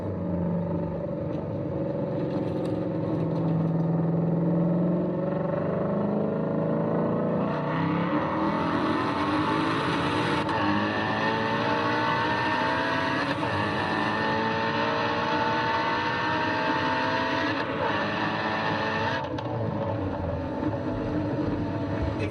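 A supercharged Ford Mustang GT350 engine revs and roars continuously, rising and falling in pitch as it accelerates, loud and close throughout.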